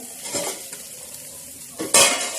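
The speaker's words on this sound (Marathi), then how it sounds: "तर चला आता आपण हे काढून घेऊया झाकण" A lid lifted off a pan of onion chutney made with green chillies and garlic, a few metallic clanks and scrapes ending in a sharp clatter over a faint sizzle.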